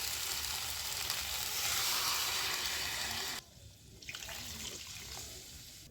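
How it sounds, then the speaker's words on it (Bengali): Water is poured into a sizzling potato and pointed gourd curry, a loud broad hiss and splash that drops suddenly partway through and then settles into a softer, steady bubbling sizzle. "এবার আমি জল দিয়ে দিচ্ছি।"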